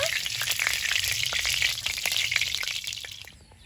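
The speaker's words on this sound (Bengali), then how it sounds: "আলুগুলো ভেজে নেব" Potatoes frying in hot oil for a Bengali ridge gourd, potato and poppy seed dish, giving a steady dense sizzle with scattered crackles and pops that stays loud throughout and eases off at the very end.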